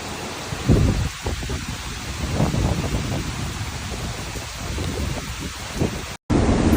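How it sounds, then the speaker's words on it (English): Heavy, steady rain pours down during severe flooding in Chiba, Japan, a loud, dense wash of noise that briefly cuts out near the end, with no voices. "Conditions on the ground indicated that this was no ordinary heavy rain."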